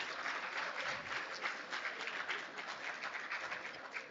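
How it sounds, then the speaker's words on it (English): A roomful of people claps after a group wellness exercise session, a steady fairly faint patter of many hands that carries on evenly without voices. "Don't clap, it's not necessary."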